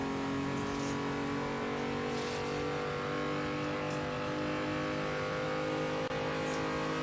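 Racing car in Assetto Corsa lapping the Nürburgring Nordschleife, a steady sustained engine drone with constant tonal harmonics and faint tire noise, fairly quiet, no talking.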